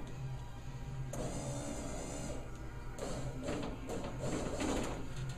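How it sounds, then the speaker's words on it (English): A new electric window motor in a Chevy El Camino, powered straight from jumper leads, runs the glass up and down with a steady, close whirring hum and no talk. "We're just going to test the motor up and down real quick, see if it's working properly"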